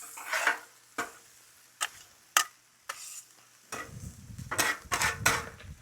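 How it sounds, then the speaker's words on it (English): Vegetables and meat for a Philly cheesesteak are tossed on a cooking surface, with sharp metal spatula clacks spaced a second apart, then a busier stretch of scraping and clattering over a low sizzle. "Toss the vegetables a little more."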